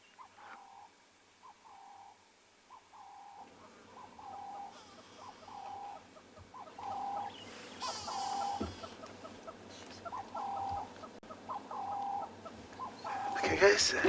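Birds call repeatedly in South African bush during a morning safari, a steady series of short, evenly spaced hooting or croaking notes carrying over a low background hum, with brief voices near the end.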